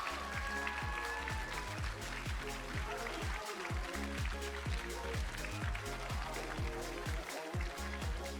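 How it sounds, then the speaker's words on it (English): A runway fashion show audience applauds. Dense clapping is sustained and even throughout, and it sounds somewhat distant and faint. "Big round of applause for them."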